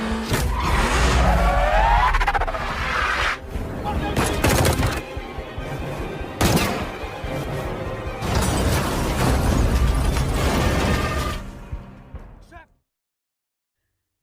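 Film gunfight and car chase sounds with loud bursts of gunfire, impacts and engine noise, dense and continuous under an action score before cutting to silence at the end.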